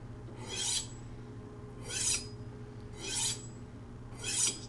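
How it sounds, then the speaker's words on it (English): A blade is honed by hand to take off the burr left by a grinding wheel and buffer: four evenly spaced, close rasping strokes over a steady low hum, with no talking. "going to do a little hand honing here"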